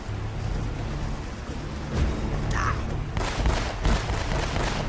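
Gunfire from the first gun in the game Uncharted, a weak pistol with infinite bullets, a quick run of loud shots in the second half over a dense, noisy game background.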